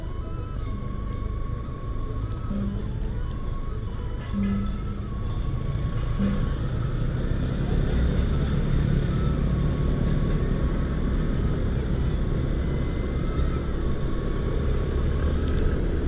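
Road traffic on a quiet street in Denpasar, Bali: a steady low rumble of a few vehicles passing at moderate distance, continuous throughout with no talking.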